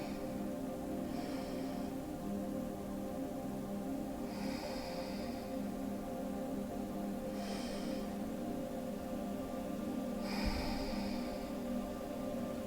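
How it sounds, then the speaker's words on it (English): Two slow, deep breaths, each drawn in and let out as soft airy swells in a calm guided meditation, heard over a steady low hum. "please take 2 deep breaths with me"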